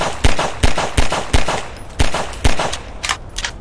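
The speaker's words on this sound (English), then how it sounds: "Shoot him with a pistol." A video game pistol fired at a T-Rex, about eight sharp, loud shots in an uneven rhythm, each with a short decaying tail, the last few softer.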